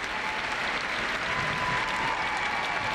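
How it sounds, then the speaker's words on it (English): Steady, dense applause from a large arena crowd for 16-year-old figure skater Johnny Weir at the 2001 national championships, a continuous wash of clapping with faint commentary underneath. "Listen to this crowd, too."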